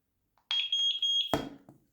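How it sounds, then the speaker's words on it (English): A single high electronic beep from a Eufy security camera syncing sounds for under a second, followed by a short click and clatter, in an otherwise quiet room. "Yep, I heard the beep."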